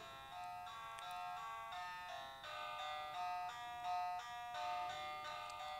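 Tinny chiptune melody from a cheap Megadrive clone console, a tune resembling a known song, plays quietly in bright repeated notes with a steady rhythm and no talk.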